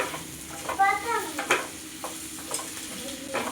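A spoon stirs potatoes frying in a pan for aloo gobi, with a soft steady sizzle and a few scraping strokes against the pan, fairly quiet and close.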